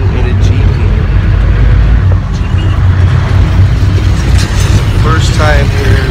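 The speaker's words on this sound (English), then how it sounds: "This is my mom's first time riding in a Jeepney." Riding inside a jeepney in Davao, Philippines: a loud, steady engine and road rumble fills the cabin throughout, with faint rattles and brief voices over the drone.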